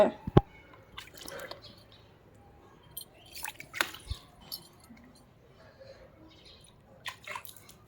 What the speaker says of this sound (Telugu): అలా చిమ్మకూడదు అయాతి, వాటర్ చిమ్మకూడదు